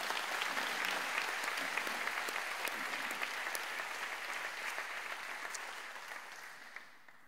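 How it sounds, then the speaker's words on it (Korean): A church congregation at a summer retreat dawn service claps warmly after praise singing, a steady even patter of many hands that gradually fades toward the end, with no talking over it. "우리 뜨겁게 박수 좀 한번 넣어주시라"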